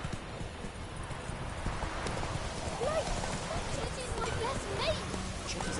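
Rhythmic clip-clop of the horse Roach's hooves in The Witcher 3, steady trotting under a layer of rain-like ambient noise and background game sound, with voices speaking over it.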